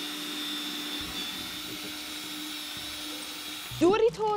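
A power drill runs steadily, boring holes while building a secret room at home, a continuous whine that holds for about four seconds before cutting out into a brief jumble of other sounds.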